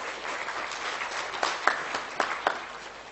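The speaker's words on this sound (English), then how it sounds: "Everyone give her a round of applause." Applause for a lecturer in a university lecture hall, fairly soft and thin, with a few sharper individual claps standing out partway through.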